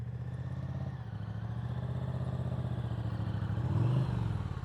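A motorcycle engine with the throttle held open during slow-speed riding practice gives a steady, close, low drone that swells louder briefly near the end.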